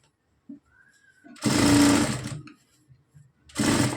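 Two close, loud bursts of a sewing machine stitch the border edges of a blouse, each running about a second with a quiet pause and soft handling noises between.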